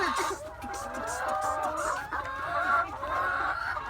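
Several hens cluck continuously in a coop where they are laying eggs, close overlapping calls rising and falling with no break.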